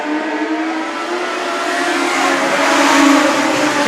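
Legend race cars accelerating on a track after a yellow-flag restart, a pack of engines droning and rising together in pitch, loud and sustained, swelling slightly toward the end with no voices.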